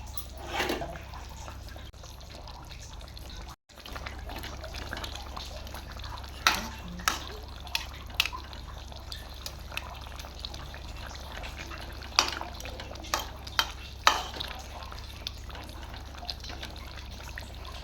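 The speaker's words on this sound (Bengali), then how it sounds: "মাছটাকে আমি দু মিনিটের মতন একটু ফুটিয়ে নেব" Bengali-style fish curry (macher kosha) with boiled potatoes and fish pieces bubbling in a pan, a steady low simmer with scattered soft pops and clinks of a utensil against the pot, no voices.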